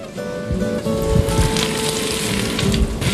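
Squash gently sweating in butter in a pan, stirred now and again: a continuous close sizzle with soft crackles and small bumps of movement, steady throughout with a faint tonal hum behind.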